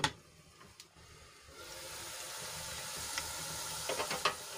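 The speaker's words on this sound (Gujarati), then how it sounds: "ડુંગળીને આપણે ગુલાબી રંગની થાય ત્યાં સુધી ઢાંકીને ચડવા દઈશું" Sliced onions frying under a lid in a pan for a quick Gujarati vegetable dish, a soft steady sizzle and hiss that swells after a moment and carries on quietly with faint crackles.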